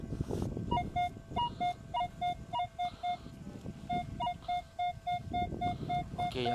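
Rapid, repeated electronic beeps from a metal detector pulse in short bursts over rustling outdoor noise, chirping as it sweeps, fairly faint.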